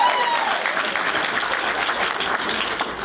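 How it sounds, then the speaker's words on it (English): Wedding guests clap for the best man during his speech, a steady, fairly loud round of applause lasting throughout with no talk over it. "Applause for me!"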